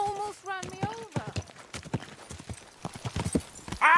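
Horse hooves clip-clop in a medieval city street in the game Kingdom Come Deliverance 2, a quick, close and fairly loud rhythm of hoof beats with a neigh, heard under people talking.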